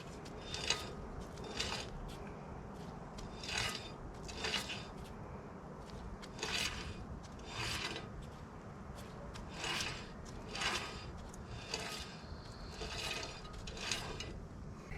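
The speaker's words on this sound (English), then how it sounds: "We're going to loosen it until this wheel starts to spin freely" A trailer wheel spins freely on freshly packed bearings with loosened adjustment, giving a steady, close, moderately quiet rubbing whir with soft repeating rasps and clicks about once a second as it turns; nobody speaks.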